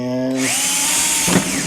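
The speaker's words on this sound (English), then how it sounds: "so I'm just going to drill through there" Power drill boring through the plastic of a Milwaukee Packout case, a loud close whine that starts on a steady pitch, bites into the material and ends with a short grinding burst.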